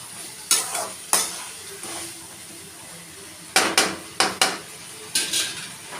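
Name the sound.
brinjal and turkey berry sautéing in a pan for kuzhambu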